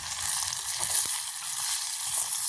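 Food sautés in a frying pan, a dense, bright continuous sizzle heard up close with one brief knock partway through.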